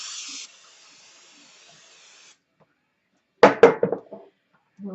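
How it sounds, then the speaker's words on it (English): A can of Pam cooking spray hisses into a measuring cup, a steady spray of about two seconds that trails off, followed by a few louder clattering knocks. "I'm going to spray the cup with Pam."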